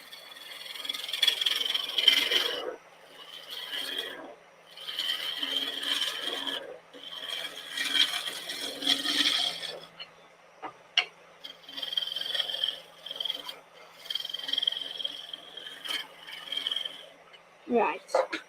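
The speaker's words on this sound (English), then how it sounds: "I'll just quickly go back onto the roughing gouge, get a nice finishing cut with that." A roughing gouge taking a finishing cut on wood spinning on a lathe, a raspy scraping that comes in repeated passes of a few seconds each with brief pauses between them.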